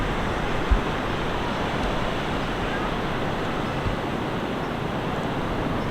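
Steady, broad wash of ocean surf at Otter Rock Beach on the Oregon coast near Devil's Punch Bowl, heard from an overlook with constant wind noise and no distinct breaking waves.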